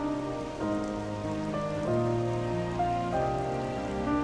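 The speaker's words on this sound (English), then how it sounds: "they had it raining specifically for the cutscene" Rain falls during a cutscene in the video game Xenoblade Chronicles 3, a soft, even patter running beneath sustained, layered musical tones.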